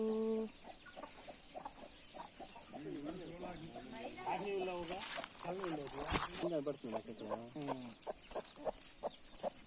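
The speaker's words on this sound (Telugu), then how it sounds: "కోడి పిల్లలు" Chickens and chicks on a farm near a mango orchard cluck and peep in a busy, overlapping chorus of short calls, fairly faint and continuous throughout.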